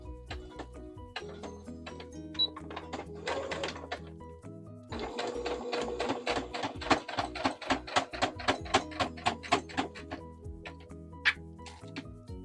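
A home sewing machine stitches a pet bandana, running in short bursts and then settling into a steady, rapid mechanical clatter of stitches, close and fairly quiet, with no voices.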